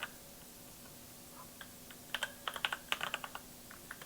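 Keys clatter on a computer keyboard in a quiet room, starting with a few scattered taps, then a quick burst of close, crisp keystrokes before tapering off.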